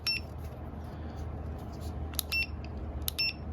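A DINJOO smart bark training collar gives a few short, high electronic beeps over a steady low hum, spaced out in small clusters near the end, each beep immediately followed by vibration.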